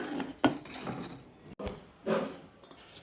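A plate and metal utensils are handled while rice is served: a few distinct clinks and knocks of dishware and cutlery over a quiet room, with a sharp tap near the midpoint and no speech.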